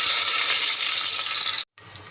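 Sliced onions hit hot oil already crackling with cumin and mustard seeds for a cabbage curry, giving a loud, dense sizzle that cuts out for a moment, then comes back softer.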